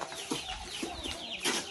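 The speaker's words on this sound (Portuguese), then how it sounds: "Essas galinhas ainda estão brigando ainda?" Chickens squabble near a house under construction, giving several short scratchy clucks and squawks in quick succession, moderately close, over light background noise.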